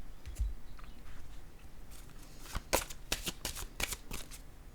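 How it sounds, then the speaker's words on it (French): Cards handled during a card reading, with a few soft taps early and then a quick cluster of crisp, close card snaps and slaps, no talking. "Je vais déposer une carte rose"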